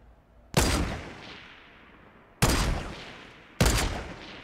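Three heavy Fortnite gunshots ring out alone at uneven intervals, each a sharp loud crack that trails off into a long echoing decay.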